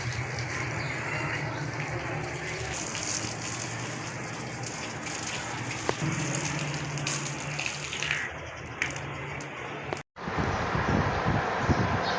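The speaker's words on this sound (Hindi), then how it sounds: "पौधों को पानी लगाया जा रहा है।" Water gushes steadily from a hose while plants are watered, a continuous loud rushing that shifts in tone partway through, cuts out briefly, then resumes with a brighter spray.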